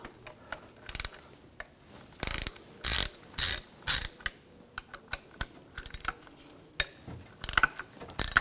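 A ratchet with an E10 socket removes the bolts of the transfer case shift motor on a 2007-2013 BMW X5 3.0L L6. Several bursts of close, sharp clicking alternate with shorter ticks and pauses.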